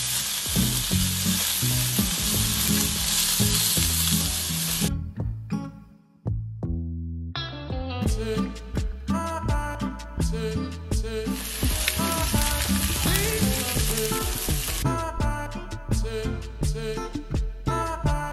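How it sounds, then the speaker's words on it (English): Ahi tuna steak dropped into a hot pan to sear, giving a loud, steady sizzle that fades briefly partway through and then returns, with tonal background music running throughout. "So I'm just gonna drop the tuna right in the pan just like that."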